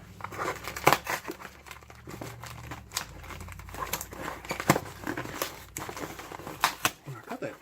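Packing tape being pulled and ripped off a cardboard package, giving stubborn crinkling, crackly tearing bursts and sharp snaps in an uneven rhythm over several seconds, close to the microphone with some background murmur.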